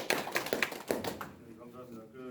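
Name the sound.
audience applause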